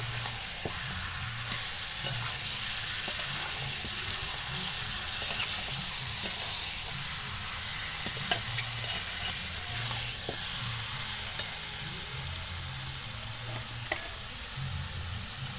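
Chicken pieces being stir-fried with spices and cauliflower in a pan give a steady, close sizzle with repeated scraping stirs and a low rumbling hum beneath.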